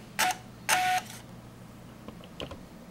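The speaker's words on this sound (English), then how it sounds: "You can hear it printing." A printer outputs a leak test cycle printout in two short, fairly loud bursts of buzzing print noise with a steady tonal whine, followed by faint clicks and rattles.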